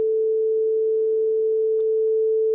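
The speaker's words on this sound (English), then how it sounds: "this is a simple 440 hertz sine wave" A steady, pure 440 Hz sine tone with reverb holds at one pitch throughout, clean and unwavering, with a brief faint click near the end.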